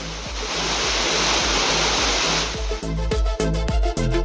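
Kumbakkarai waterfall near Periyakulam in Theni district, a steady loud roar of falling water that gives way midway to a series of sharp clicks and tonal bursts over the rushing noise.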